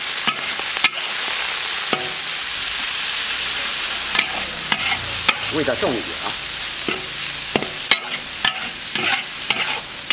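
Bamboo shoots and pork intestines stir-fried in a wok with dark soy sauce, giving a steady loud sizzle with repeated scraping and clanking strokes of the spatula, and a brief spoken remark partway through.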